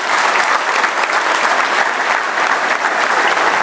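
A church congregation claps in steady, dense applause, loud and continuous throughout, with no voices standing out above the clapping.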